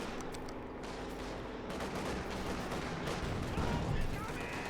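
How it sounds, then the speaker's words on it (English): A tank's hull-mounted heavy machine gun fires in a Company of Heroes 2 battle: dense, steady rattling gunfire under a wash of distant battlefield noise, with no clear voice. "The heavy machine gun fire from the hull there."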